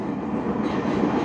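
Indonesian KRL Commuter Line electric train at a station as a locomotive passes alongside, giving a steady, loud, close rumble of rolling railcars that holds for the whole moment with no talking.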